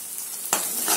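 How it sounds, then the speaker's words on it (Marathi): Turmeric, chili, garam masala and coriander powder frying in hot oil for chana masala, giving a soft, steady sizzle with a sudden brighter hiss partway through as they are stirred. "याला आपण छान आता तेलामध्ये फोडूया"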